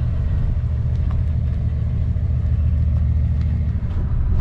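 A 1990 GMC Sierra pickup with a 7.4L V8 and dual rear wheels runs with a steady, loud, low rumble that holds evenly from start to finish.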